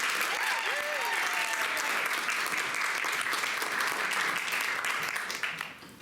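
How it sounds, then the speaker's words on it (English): A theater audience claps for a live adventure serial show, sustained dense applause up close that holds steady before thinning out at the end. "Let's hear a big round of applause."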